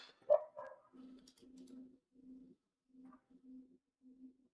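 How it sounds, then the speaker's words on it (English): A dog barks once somewhere away from the microphone, followed by a series of faint, muffled low woofs at an uneven pace in an otherwise quiet room. "my dog's barking over there"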